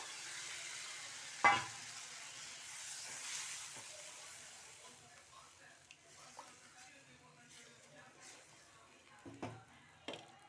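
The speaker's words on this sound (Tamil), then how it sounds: "இதில் நான் கரைச்சி வச்சுருக்க புளி தண்ணியை சேர்க்குறேன்" Soft, steady sizzling as tamarind water is added to a pan for fish curry, with faint stirring and scraping, plus a few sharp clinks of utensils against cookware.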